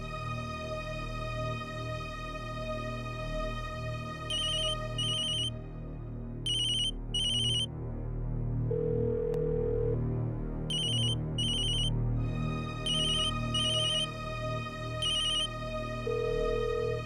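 An unanswered telephone rings on and on in a household scene, its electronic ringtone repeating in evenly spaced bursts over a steady musical background, with no voices.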